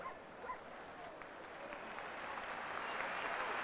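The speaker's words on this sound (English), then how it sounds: "And the crowd gives him a nice round of applause, and this is a road game." A stadium crowd at a road college football game applauds an injured player, a broad steady wash of clapping that swells gradually and holds at a moderate distance.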